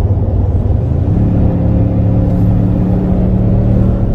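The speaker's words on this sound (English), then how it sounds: "Accelerating in this truck is very fluid" A 2022 Toyota Tundra pickup accelerating smoothly: a steady, loud engine rumble and drivetrain whir with a rising tone, heard from inside the cab with no voices.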